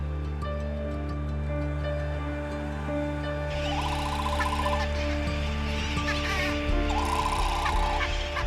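A Laysan albatross colony on Midway Atoll fills the air with loud, overlapping honking and braying calls, some in rapid rattling bursts, set against a constant wash of background noise.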